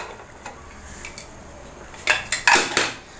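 A metal pressure cooker lid is opened after cooking green gram. It gives a few sharp clanks and scrapes of metal on metal, clustered near the end after a quiet lead-in.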